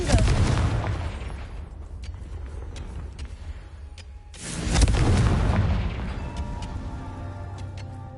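A magical blasting-spell explosion from Hogwarts Legacy: two deep booming blasts a few seconds apart, each with a rumbling tail, loud and close, with no talk.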